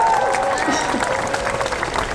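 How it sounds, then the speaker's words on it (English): Applause from the audience at UCLA's 2022 Department of Sociology commencement, a steady wash of clapping from a large crowd that holds for the whole stretch, with a voice faintly present underneath. "You can give my Bruin family a round of applause."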